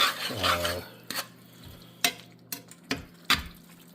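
A spoon works through a baked ziti mixture seasoned with salt and red pepper, giving a soft scraping swirl and then several sharp clinks and scrapes against the pot, close and clear with no talking.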